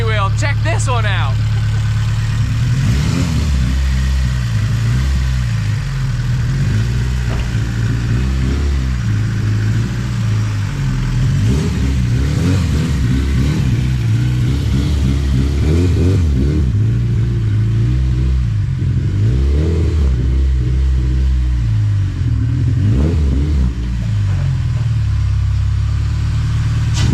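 An H22A-swapped Honda EG hatchback revs repeatedly at a Honda car meet, with rising and falling engine pulls over a loud, constant crowd and vehicle din, and people talking throughout.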